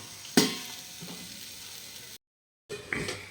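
Potatoes fry in oil in a home kitchen, a soft steady sizzle with a sharp stir or scrape near the start, a brief cut to silence, then the sizzling returns.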